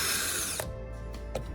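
Screws driven into a wooden board by a power drill or driver, a short burst of motor whir followed by brief ratcheting clicks, close and clear with no speech.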